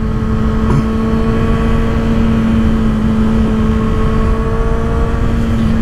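A 2024 Kawasaki ZX-6R Ninja motorcycle engine rides as a loud, close, steady droning tone that rises slightly and holds for several seconds with no one speaking.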